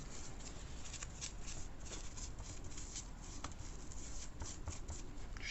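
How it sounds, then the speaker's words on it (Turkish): Tissue wipes old thermal paste residue off laptop components in repeated soft rubbing and swishing strokes. The sound is close, quiet and continuous, with small crinkles and no speech. "Termal macunumuzun kalıntılarını önce bir peçete aracılığıyla şöyle fazlalarını siliyorum."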